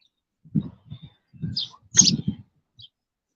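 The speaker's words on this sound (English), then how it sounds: "y'all heard a bird fly past my damn phone" A bird flies close past a phone, heard as a few short, muffled fluttering whooshes with faint chirpy flicks, loud and near against an otherwise quiet background.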